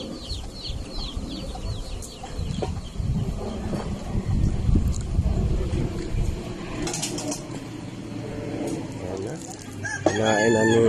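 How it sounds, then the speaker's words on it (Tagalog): Chickens and chicks cluck and peep close by in a yard while a rooster crows loudly, the calls overlapping in a busy, continuous farmyard chorus. "Daming sisiw oh."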